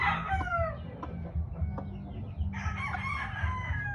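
An SBR gamefowl rooster from a game farm crows loudly and close, a long drawn-out call, with more fowl calling and clucking in the background over steady low rumble.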